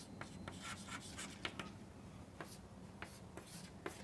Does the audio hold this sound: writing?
yes